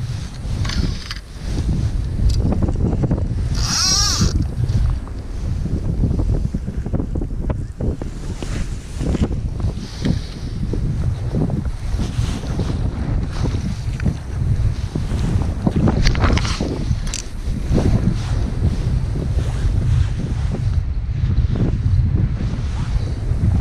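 Hard wind gusts buffet the microphone beside the River Thurso at Loch Beg in spring, with loud, uneven rushing and rumbling throughout and moving water faintly beneath.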